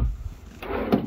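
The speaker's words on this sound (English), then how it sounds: "And then I got three full extension drawers here." A full-extension kitchen drawer in a 2023 Salem Hemisphere 369BL travel trailer slides with a brief, close sliding rumble that ends in a soft bump.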